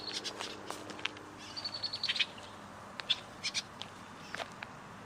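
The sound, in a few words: little brown birds chirping by a bog duck pond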